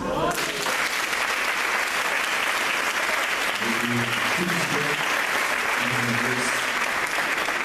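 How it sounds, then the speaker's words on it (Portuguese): A church congregation applauds during a family worship service, steady dense clapping filling the space from start to finish, with a few voices and murmurs rising under the applause midway. "Aplauda o Senhor."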